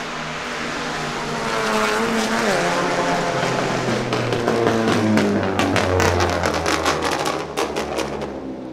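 Race car on new Sentul asphalt, tires squealing: a steady engine roar builds, then sharp, repeated tire chirps and squeals cut in toward the end, loud and close with no talk over it.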